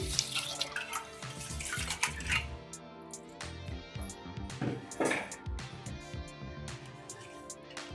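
A glass of water is poured over washed rice in a vessel. Quiet, close splashing and trickling rise and fall unevenly, with a few light drips and no speech.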